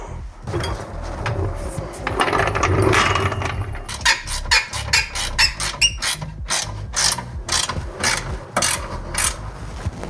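A ratchet wrench tightens rear suspension arm bolts on a car with five-link suspension, first some clunky handling and rustle, then a rapid run of regular sharp clicking strokes, close and loud.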